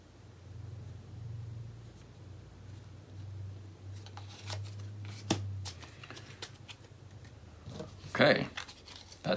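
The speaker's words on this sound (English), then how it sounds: "Shuffle the encounter deck." A deck of encounter cards for The Lord of the Rings card game being shuffled, heard as a brief close riffle near the end after a low steady hum and a few scattered handling taps.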